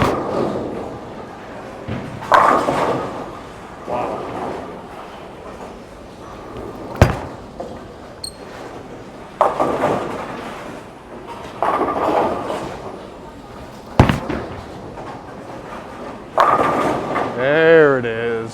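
A Hammer Obsession Tour bowling ball rolls down the lane with rumbling thuds and sharp knocks, the sound of the alley's balls and pins echoing around, while someone talks intermittently over it.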